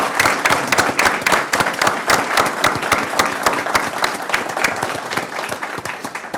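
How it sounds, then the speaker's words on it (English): Dense applause from an audience at a county board of supervisors meeting, many hands clapping steadily at close range for several seconds without talk. "So if you all would join me, just giving them a round of applause"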